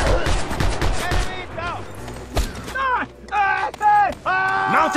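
Rapid handgun shots in the Just Cause 2 game, a quick string of sharp cracks at the start, then a single shot and sparse pops, under loud shouting voices.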